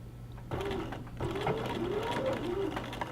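A sewing machine back stitching fabric runs with a steady, fairly quiet mechanical whir that starts abruptly and continues without a break.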